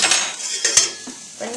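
A metal pot lid is pulled out and handled in a kitchen while peas are being readied to boil, giving a few clanks and scrapes of metal against cookware over about a second and a half, close and fairly loud, with no talking.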